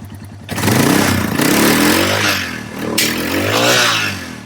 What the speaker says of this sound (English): See how it runs when we twist the throttle again.